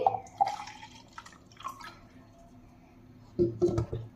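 A few short splashes of a little water poured over mint for lemon juice, separated by quiet pauses, nearby and fairly soft.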